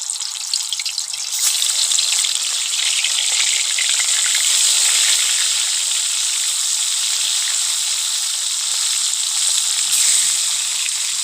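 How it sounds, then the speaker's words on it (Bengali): Silver carp pieces frying in hot oil in a wok give a loud, steady, hissing sizzle that runs unbroken throughout, with no talking. "তো এবার মাছটা ভেজে নেবো"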